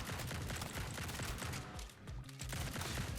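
Weapons firing in a survivorslike video game, a dense nonstop barrage of rapid shots and impacts layered over game music, steady and busy throughout.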